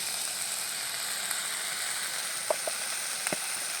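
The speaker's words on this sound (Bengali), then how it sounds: "হলুদটা দিয়ে আমি একটু কষিয়ে নেব" Taro with spices, salt and turmeric sizzling in a pan, a steady close hiss of frying with a few faint clicks of a utensil against the pan.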